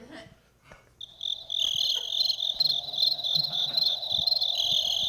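Crickets chirp in a loud, steady, dense chorus of high trilling that starts after a second and keeps going unbroken. A few faint thumps and low murmurs sit underneath.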